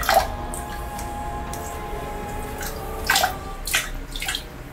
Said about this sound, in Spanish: Y descarga el agua nada más.